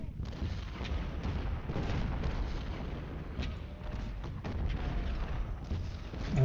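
Massed Civil War infantry and artillery fire in the strategy game Ultimate General: Civil War, at the Battle of Chickamauga: a continuous rolling din of distant musket volleys and booming cannon shots, dense and unbroken throughout.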